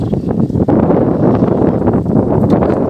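Steady, loud wind buffeting close to the microphone at a beehive, a continuous low roar with faint rustling and no speech.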